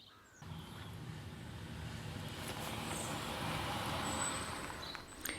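A bus carrying rescue dogs approaches, its low engine rumble and road noise swelling steadily over several seconds, with faint high bird calls and a short hiss near the end.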